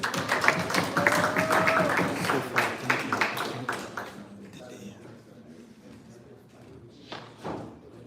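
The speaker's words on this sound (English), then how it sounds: "can we give them a round of applause for Gen H, please?" An audience claps for presenters at a live institute event, a dense burst of applause that thins out midway, then a few scattered claps, with talking over it.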